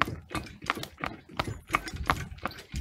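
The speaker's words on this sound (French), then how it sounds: "Et là, vous allez voir le cheval ce qu'il va faire." Hooves of a horse at a French outdoor market clop steadily at a walking pace onto a graffiti-tagged bridge, close and distinct, with a regular rhythmic beat throughout.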